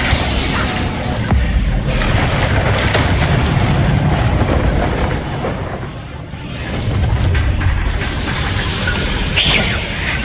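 A loud, sustained blast and rumbling roar from the Confringo fire spell in Hogwarts Legacy, filling the scene with dense low boom and crackle, with a brief spoken shout heard.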